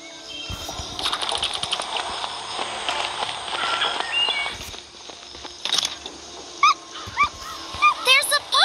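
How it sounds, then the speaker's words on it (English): A puppy whimpers and yips in high, thin cries over a busy soundscape in the video game Doomsday, with voices talking throughout. "There's a puppy! Come here, little puppy."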